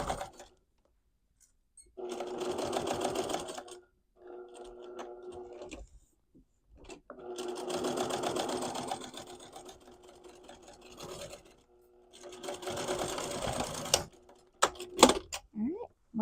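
A sewing machine stitches the edges of a quilted tote bag with flex foam, running in several bursts of fast, even mechanical whirring separated by pauses, with brief handling clicks and a voice speaking between runs.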